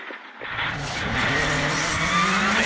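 A Subaru WRC rally car on a gravel rally stage of the Irish National Rally Championship Midland Stages roars past close by, the engine note building to loud after a sudden start, with gritty skidding and tire noise.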